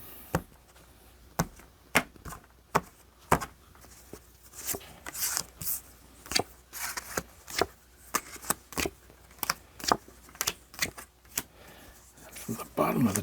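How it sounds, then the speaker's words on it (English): Crisp tarot card shuffling and cutting: a run of sharp slaps and riffles at uneven intervals, close by, with soft rustling between them and no talking. "we'll do one more shuffle and cut the cards"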